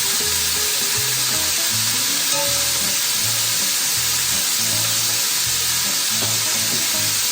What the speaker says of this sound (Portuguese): eu vou deixar esse frango caramelando aqui na panela